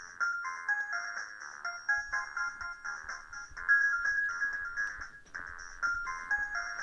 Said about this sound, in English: That's a very Nokia-sounding ringtone.